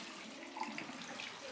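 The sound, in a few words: hot tap water running from a faucet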